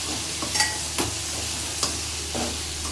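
Tomatoes stirred and fried in a pan, a continuous loud sizzle close up, broken by a few scraping stirs of the spoon.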